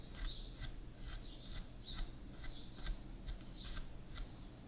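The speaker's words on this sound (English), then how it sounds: "we're just gonna brush that area until that string nub goes back in" Soft brushing strokes over a string nub during a personal attention treatment, a repeated close scratchy swish in a steady rhythm, quiet and without talk.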